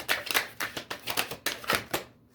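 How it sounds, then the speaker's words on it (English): Tarot cards riffled and shuffled by hand in a quick run of about nine crisp, papery bursts, close and fairly quiet, ending abruptly in silence. "Let's shuffle again."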